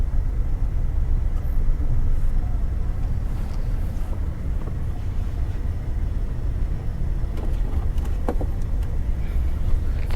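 A car engine hums low and steady from inside the cabin during a driving lesson, a constant rumble with faint road and wind noise and occasional small knocks, no speech.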